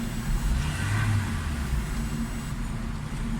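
A Suzuki Cultus EFI car engine idles after tuning with new spark plugs, giving a steady, close, even low rumble that holds constant throughout with no voices.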